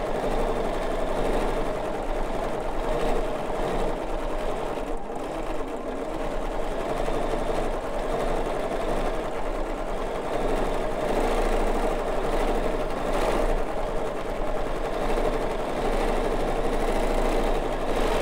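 Domestic sewing machine quilting a fabric piece with black thread, a steady, close, continuous motorized hum and rapid needle chatter running without pause.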